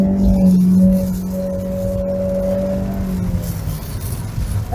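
A 2025 Chery Tiggo 2 Pro with a CVT accelerating, its engine holding a steady, droning hum close by that eases slightly as the car gathers speed.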